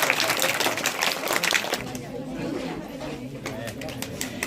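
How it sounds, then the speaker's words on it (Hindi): Children clapping at a school welcome ceremony for new students, a dense burst of applause that fades by the midpoint, followed by chatter and talk. "ताली बजाओ बेटा"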